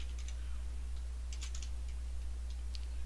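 Quiet, scattered keystrokes tap on a computer keyboard in short bursts over a steady low electrical hum, with no voice.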